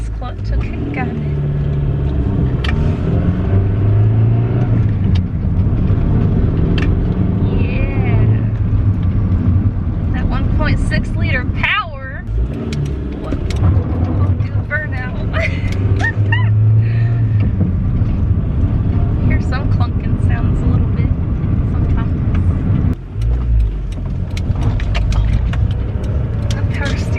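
A Honda EF hatchback on new coilovers drives along with a steady engine drone, tire and road rumble, and occasional bumps and rattles, heard from inside the cabin while a person talks over it.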